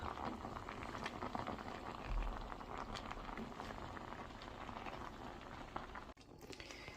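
Watery plum sauce bubbles on a stovetop, a dense, steady boil of crackling pops and simmering patter that holds evenly, then cuts off briefly near the end.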